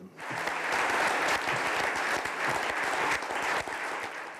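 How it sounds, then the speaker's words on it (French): Sustained applause from metropolitan councillors closes Alain Juppé's speech, a dense, steady roar of many hands clapping that continues evenly throughout, heard slightly distant. "C'est sous les applaudissements qu'Alain Juppé a clôturé son discours devant les élus métropolitains"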